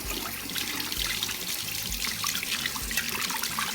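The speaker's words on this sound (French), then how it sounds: "Et je n'ai plus qu'à rincer." Tap water runs steadily into a sink while a makeup brush loaded with soap and brown eyeshadow is rinsed, a close, continuous splashing trickle with no voices.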